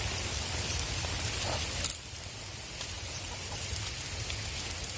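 Heavy rain pours down in a village, a dense steady hiss of drops on surfaces that runs for the whole stretch, with a brief rattling clatter near the middle and no voices.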